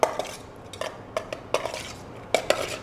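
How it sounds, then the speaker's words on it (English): A utensil scrapes and clinks against a bowl in irregular taps while olive oil, white wine vinegar and other ingredients are mixed, close and fairly quiet with no talk. "So mixing all those ingredients together"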